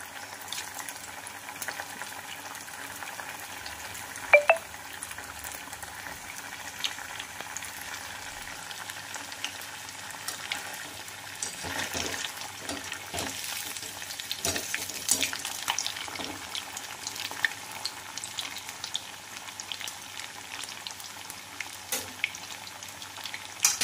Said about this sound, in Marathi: तेल छान तापल्यानंतर गॅस थोडा कमी करायचा आहे आणि त्यामध्ये अशा 4-4, 5-5 पीस टाकून आपल्याला हे छान असं फ्राय करून घ्यायचं आहे